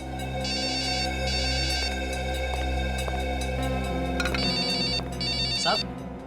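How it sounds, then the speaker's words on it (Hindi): A mobile phone ringtone chimes in repeated bursts over a steady background hum, with a voice briefly speaking near the end. "फोन बज रहा है आपका।"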